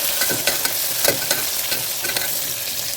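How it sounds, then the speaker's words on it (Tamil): Curry leaves and green chilies sauté in hot oil for tomato rice, giving a bright, crackling sizzle with quick spatula stirs and scrapes in uneven bursts. "பாருங்கள் நல்லா வதங்கிட்டு இருக்கு கருவேப்பிலை போட்டலாம் பச்சை மிளகா போடலாம்"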